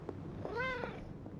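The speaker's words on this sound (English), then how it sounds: "I hear a kitty. Where's the kitty?" A cat meows once, a clear drawn-out call with rising and falling pitch, in the Midnight Suns video game, heard over a low steady game backdrop with faint soft thumps.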